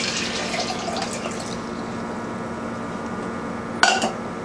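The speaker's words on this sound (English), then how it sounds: "Pot, cold tap water." Cold tap water runs steadily into a cooking pot for a camp stove, a continuous close splashing hiss with a brief clink of metal near the end.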